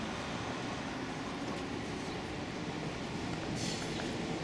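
A number 10 tram passing through Basel, Switzerland, a steady low rumble of wheels on rail with a brief brighter screech near the end, fairly close and continuous, with no voices.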